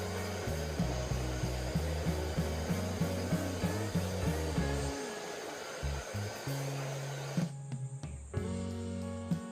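A hair dryer blows steadily while drying hair, a loud close whir that pulses rhythmically at first and then shifts pitch as the setting or angle changes, with handling bumps near the end.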